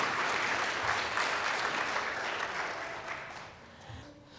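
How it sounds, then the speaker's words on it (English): Audience applause at an awards ceremony, a dense, moderately loud patter of clapping that gradually thins and fades toward the end. "So please give yourselves a round of applause."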